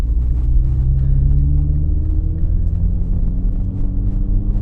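A Saab-powered Astra van's engine rumbles steadily, its deep tone slowly rising as the throttle is blipped, heard from inside the cab with no talking.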